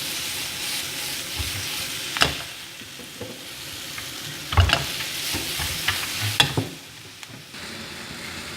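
Onion and capsicum sizzling with cauliflower in a pan while being stirred, a steady broadband frying hiss with occasional louder scrapes and clatters of the spoon, close and alone with no talk.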